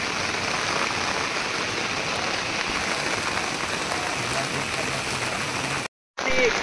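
Freshly picked wild mushrooms gathered in the jungle are washed in water, giving a constant dense hiss of splashing water that stays close and steady before cutting out briefly near the end.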